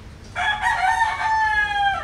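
A rooster crows loudly and close by among open-air farm chickens kept through a typhoon, one long drawn-out call with a faint background hum beforehand and no talking.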